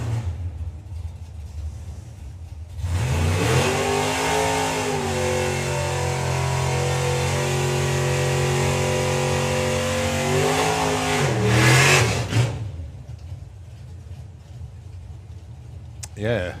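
Drag racing car at the 2023 Dragstalgia event launching and accelerating down the strip, a loud sustained engine roar with rising pitch lasting about nine seconds before fading, over background crowd and commentary.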